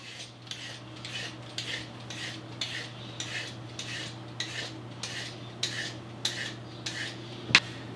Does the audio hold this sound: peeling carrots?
yes